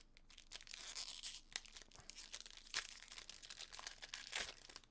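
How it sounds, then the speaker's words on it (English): Close, steady crinkling and tearing of a plastic trading card pack wrapper, with sharp rips and crackles spread across the whole stretch, no voices. "that pack took like 5 minutes to open, everyone. But if you like plastic crinkling ASMR, that was like awesome for you"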